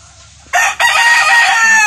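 A rooster crows loudly and close by, one long ragged cock-a-doodle-doo with a brief break near the start.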